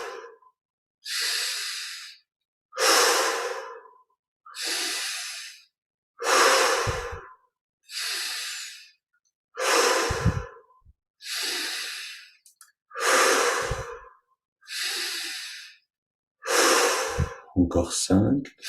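Slow, deep breaths in a guided meditation, about ten long even inhales and exhales with silent pauses between them, close and clear and without talk.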